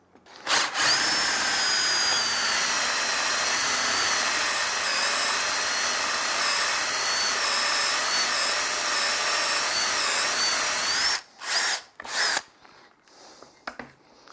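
A drill with a spade bit bores a hole with a steady, loud, high whine held for about eleven seconds, then stops and starts in a few short bursts, near and without talk.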